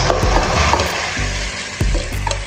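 Pakbet vegetables and bitter melon fry loudly in a pan, with a steady sizzle broken by several knocks of a utensil stirring against the metal.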